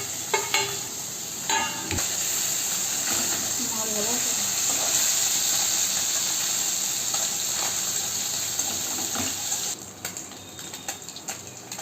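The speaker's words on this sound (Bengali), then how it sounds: "মাছটা ভাজা হয়ে গেছে, আমি এবারে মাছটাকে নামিয়ে ফেলবো।" Fish frying in hot oil gives a continuous loud sizzle with steady hiss, accompanied by occasional clinks of a utensil against the pan and brief speech near the start.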